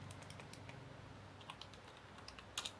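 Rapid keystrokes on a computer keyboard while a company name is entered into an Excel salary slip, with irregular clicks that quicken toward the end, close and fairly quiet, and no talking.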